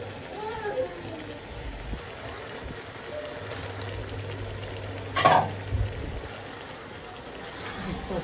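Bone-in chicken dropped into a hot pot of spiced oil for Bombay-style chicken biryani, a soft steady sizzle with a brief louder hiss and clatter as the pieces go in, then frying settling back to a low crackle.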